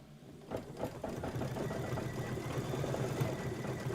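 An embroidery machine stitching out a quilt design, starting abruptly and then running in a rapid, steady mechanical chatter of needle strokes, close and even, with no voices.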